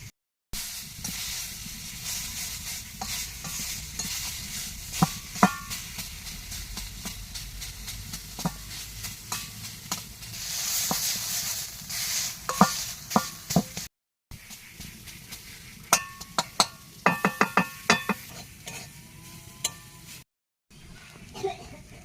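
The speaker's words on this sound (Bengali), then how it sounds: "নোটের শাক ভাজা হয়ে গেছে" Amaranth greens fry in a pan with chilli and crushed garlic, giving a continuous soft hiss and sizzle with scattered clicks and stirring scrapes; no one speaks.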